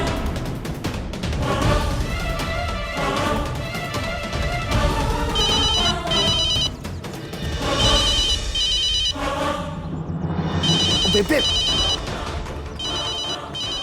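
A telephone rings inside a house in a Hindi-Punjabi TV drama, its bell tones recurring under a dense mix of background music and household sounds, with a woman briefly calling out.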